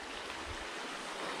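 A river on a farm flows in a steady, close wash of water with no other sounds.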